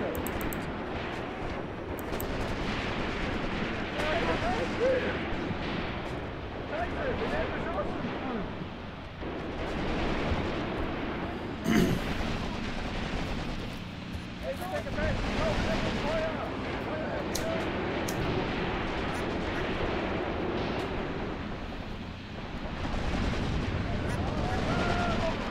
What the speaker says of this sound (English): We've got our infantry firing from the woods, guys.